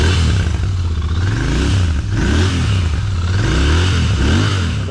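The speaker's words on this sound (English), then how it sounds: "I've got sound of the bike from before." A Royal Enfield Continental GT 650 twin on its stock exhaust runs close and loud, a steady throbbing idle rising into repeated revs and falling back.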